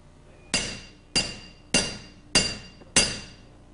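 A hammer strikes a finished bangjja bowl of forged bronze five times at a steady rhythm. Each strike is a bright metallic clang with a ringing tone that decays slowly, close and fairly loud, with no talk.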